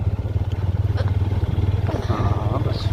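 A motorbike rides a mountain road from Barmas to Jutial, its engine a close, steady, rhythmically pulsing thrum with some rattling clatter.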